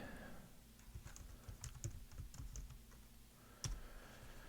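Quiet, irregular clicking of computer keys being typed in short bursts, close by, with a soft background hum.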